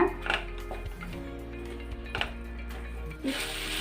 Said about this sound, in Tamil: இப்போ எடுத்து வச்சுருக்க சாதத்தை சேர்த்துக்கோங்க. சேர்த்துட்டு நல்லா மிக்ஸ் பண்ணி விட்டுக்கோங்க.